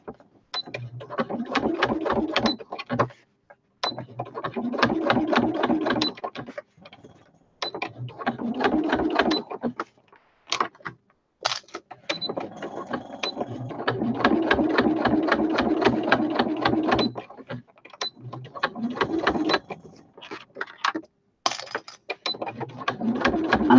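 Sewing machine stitching an anti-slip foot pedal mat, running in bursts of rapid mechanical needle chatter separated by short pauses, loud and close with no talking.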